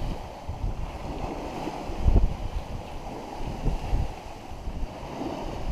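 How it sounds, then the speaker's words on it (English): A sailboat heeled over in open ocean, riding up and over big swells, with steady wind rush and sloshing water against the hull, occasional louder surges as waves pass. "These big ocean swells, we just sort of ride up and over them."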